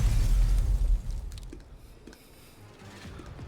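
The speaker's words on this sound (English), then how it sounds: "Once again, there's another deafening explosion." A heavy explosion in the game GFL2 Exilium, a loud low boom that opens the clip and then decays into a rumbling tail with scattered faint crackles.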